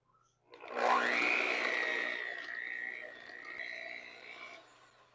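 An electric mixer whirs as an egg is beaten into a butter and cheese mixture, starting abruptly, then humming steadily with a slight drop in pitch and loudness for about four seconds before it trails off.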